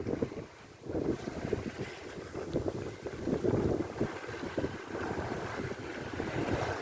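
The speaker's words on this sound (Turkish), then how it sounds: "kuzey rüzgarlar başladı" North wind gusts across a sailboat near Foça, rushing against the microphone while water sloshes and rumbles beneath the hull.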